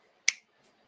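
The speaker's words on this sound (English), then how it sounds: "Can you snap your fingers?" A child's single finger snap, one crisp sharp click, close and isolated in a quiet room with nothing else around it.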